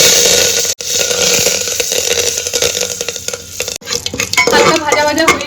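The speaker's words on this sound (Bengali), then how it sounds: "প্রেসার কুকারে দিচ্ছি তেল প্রথমে সর্ষের তেল দিয়েছি কালো সর্ষে দিয়ে দিলাম কি কারি পাতা" Black mustard seeds and curry leaves sizzle in hot mustard oil in a pressure cooker, a steady loud frying hiss that turns into sharper popping and crackling near the end, with no voices.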